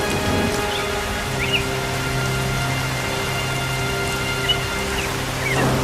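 Steady, fairly loud rainfall in a Hindi cartoon keeps up an even hiss throughout, with a faint low hum underneath and occasional slight swells.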